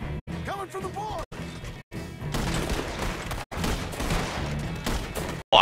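Gunfire in Red Dead Redemption 2 bursts out in a mix of shots, cracks and crashing impacts at moderate loudness, broken by brief gaps, with a voice speaking near the start.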